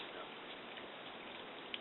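Water patters and trickles steadily down a rock wall in Linville Gorge in a soft, continuous hiss, with no voices.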